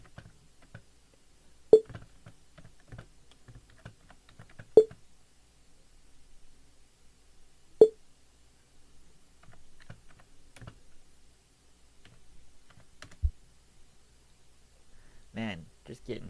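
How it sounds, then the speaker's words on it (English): Fast, light keystrokes on a computer keyboard entering a name, soft clustered clicks with a few louder single taps, while someone talks quietly over the typing. "now we just gotta type in dude's name"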